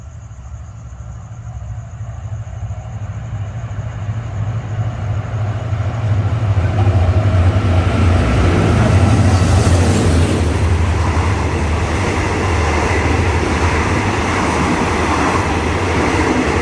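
Hitachi diesel locomotive number 4514 hauling a passenger train, a low rumble that swells to a loud, steady roar of engine and rolling wheels as it passes close by.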